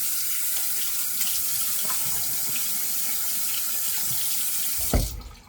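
Tap water running hard into a sink for a rinse after a wet shave, a steady close rush of splashing that stops abruptly with a final knock near the end.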